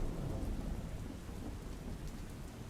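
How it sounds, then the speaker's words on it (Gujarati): Heavy, unbroken rain pours down in Gondal, Rajkot, a dense steady roar with no voices. "રાજકોટના ગોંડલમાં પણ અવિરત વરસાદ વરસ્યો"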